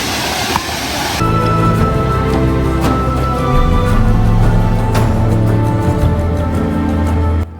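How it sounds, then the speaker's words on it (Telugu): Steady roar of a forest waterfall near Chikmagalur in Karnataka, a continuous loud rush of falling water with no voices, holding nearly constant throughout. "అడవుల మధ్యలో ఉండే ఈ జలపాతం కూడా ఎంతో అద్భుతంగా ఉంటుంది"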